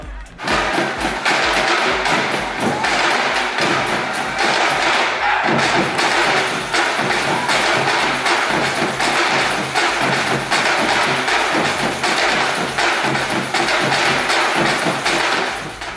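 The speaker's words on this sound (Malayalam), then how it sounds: "ആഫ്രിക്കൻ സംഗീതത്തിൻ്റെ ചടുല താളമാണ് അതിലൊന്ന്" Lively African drumming plays at the Global Village Christmas fair, with fast, heavy, steady beats and rhythmic music carrying on loudly throughout.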